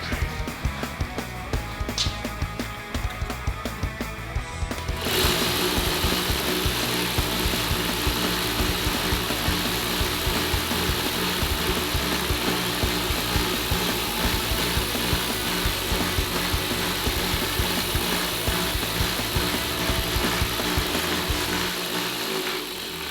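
A belt grinder sharpens a custom titanium knife with a continuous close mechanical whine and rough grinding hum, joined after a few seconds by a louder motor roar that persists without speech.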